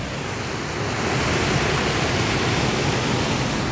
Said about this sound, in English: So we're here at the waterfall on our property.